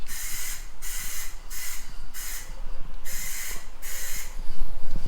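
Spray gun painting a JDM rear bumper for a Skyline V35 / Infiniti G37, heard as repeated hissing bursts in a steady on-off rhythm, each lasting about half a second, close and clear.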